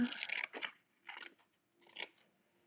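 Scissors cut paper for a scrapbook page, three short close-up snipping strokes separated by brief pauses, crisp and clear in a quiet room.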